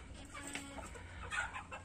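Hens in a breeding coop give soft, faint clucks, a few scattered calls against low farmyard background noise.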